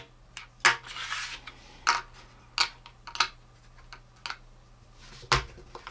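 Plastic Power Pux flip chips being covered with a lid, giving a run of light, sharp plastic clacks and taps at uneven intervals, close and fairly quiet, with no talking.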